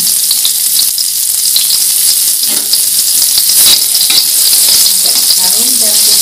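Shallots frying in hot oil for street-style nasi goreng, a steady loud sizzle with occasional stirring scrapes of a utensil in the pan throughout.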